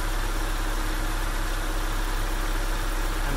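A Mazda B2000 pickup engine fitted with a Weber carburetor idles slightly high, a steady, even drone with constant vibration heard close up, no voices.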